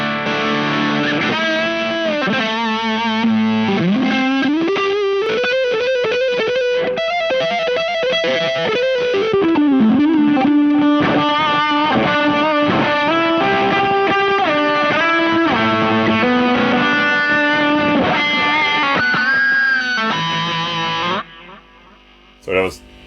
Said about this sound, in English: This is the Jaffa Fuzz by Tone Cloud